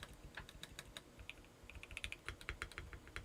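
Typing on a stock CIY GAS67 mechanical keyboard gives a quick irregular run of crisp, clacky keystrokes, close and fairly quiet, with no talking.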